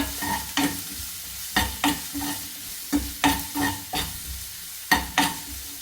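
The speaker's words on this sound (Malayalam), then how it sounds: "ഒരുപാട് കിഴങ്ങൊന്ന് മൂക്കണം" Potatoes sizzling in a hot pan for a beef liver roll filling, stirred with a spatula in irregular scraping strokes and clatters over a steady frying hiss, close up with no talking.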